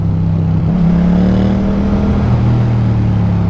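A motorcycle engine drones loudly and steadily while riding a road near Volterra, Italy, its pitch rising slightly then holding even, close and continuous with no voices.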